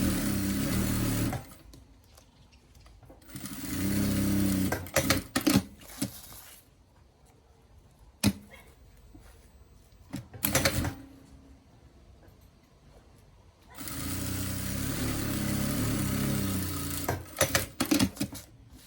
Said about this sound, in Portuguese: Vamos rebater esse zíper. Ó. Puxa bem aqui, deixa bem certinho. E passamos uma costura aqui de acabamento.